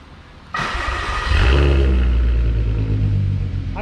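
A VW Golf R32 engine cranks and catches at about half a second, then settles into a loud, steady idle with deep rumble and a slight rise in revs, close up with no talking.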